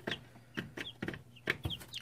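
Three-week-old chicks pecking at hay against cardboard give soft, quick, rhythmic clucks and cheeps, fairly faint and close, with light tapping between calls.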